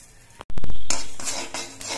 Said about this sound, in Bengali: তার জন্য অল্প করে কিছু কালো জিরে ভেজে নিচ্ছি